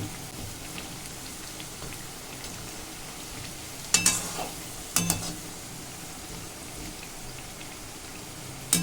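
Cauliflower 65 deep-frying in hot oil, a steady close bubbling sizzle throughout with a few sharp clinks of a utensil against the pan.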